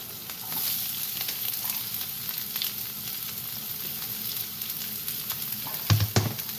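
Green chili and onion sizzle steadily in hot oil with a continuous crackling hiss, followed by a couple of louder stirring clatters near the end.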